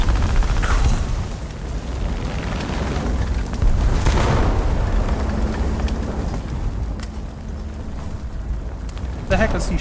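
Booming explosions from bombing in the combat game War Thunder, a dense low rumble that swells and bursts through the whole stretch, with a louder blast near the middle and another at the end, a voice talking over part of it.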